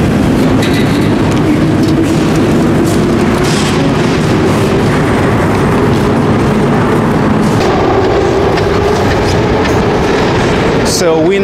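Moscow underground metro train, a loud, steady rumbling roar heard from on board, with people talking over it.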